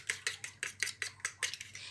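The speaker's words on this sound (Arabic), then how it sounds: "هقلبهم بقى كويس." Two eggs and a little milk are whisked in a bowl with a utensil, giving about eight quick, evenly spaced clinks and scrapes against the bowl, close and clear with no talking.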